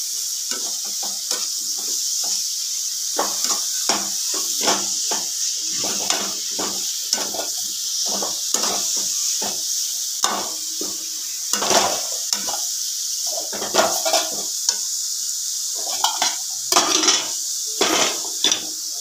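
Potato and spinach bhurji stirred in a pan, with a rapid series of scraping clatters from the spoon against the metal over a steady sizzle; no voices.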